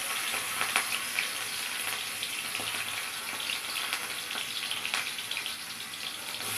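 Garlic paste sizzles and crackles steadily in hot oil in a frying pan, close and continuous, with occasional stirring clinks while a corn snack is being made.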